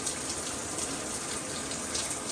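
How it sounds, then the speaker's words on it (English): Water runs steadily from a first-floor shower head in a house whose thermostatic mixing valve has failed, a constant close hissing spray with no breaks and no talking. "this is the first floor shower head"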